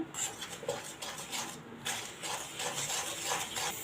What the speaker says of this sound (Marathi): पिठी साखर बटर आणि तेल चांगलं फेटून घ्यायचं आहे आपल्याला